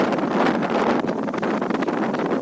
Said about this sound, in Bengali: অনেক জোরে জোরে বাতাস হচ্ছে।